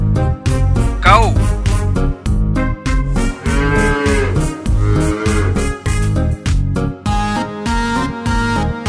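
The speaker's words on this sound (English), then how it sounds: "Cow." A cow moos amid a bouncy children's rhyme, the animal call blending into loud, steady background music with a repeating beat.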